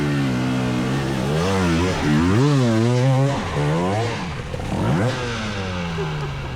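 A motorcycle engine revs hard as the bike climbs a steep, near-vertical slope, loud and close, its pitch rising and falling in repeated surges of throttle.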